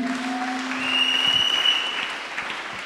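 Congregation applause erupts during a French-language church sermon, acclaiming Jesus: steady broadband clapping that swells toward the middle, with faint sustained tones beneath.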